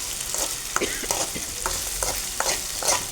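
Ginger sautéing in a hot pan, a steady loud sizzle broken by repeated scraping stirs of a spatula, close and continuous with no voices.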